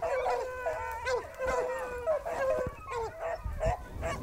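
Beagle hunting dogs chasing a rabbit bay and howl in repeated overlapping bursts, several voices calling at once from a moderate distance, with brief gaps between the cries.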